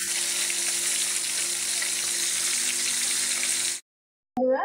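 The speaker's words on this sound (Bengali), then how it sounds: "মাছগুলোকে সুন্দর করে লাল লাল করে বাইজা নিই" Pieces of fish fry in hot oil in a Bengali kitchen, a loud, even sizzle that runs continuously before cutting out abruptly, followed by a brief clatter.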